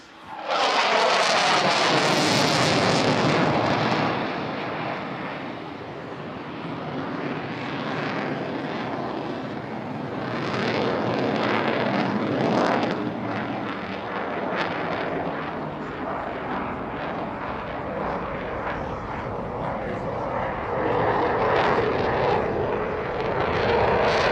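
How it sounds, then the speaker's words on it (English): Eurofighter Typhoon fighter jet roaring past overhead at an airshow display, a loud broadband rush that swells, then a long rumbling, shifting roar as it manoeuvres at a distance. "we have our Typhoon running in for his display"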